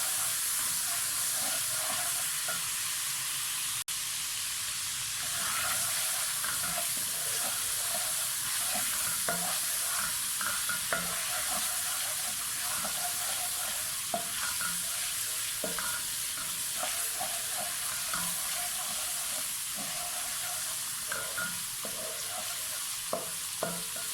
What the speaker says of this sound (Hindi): लहसुन अदरक का पेस्ट ऐड करेंगे और इसको हम भूनेंगे।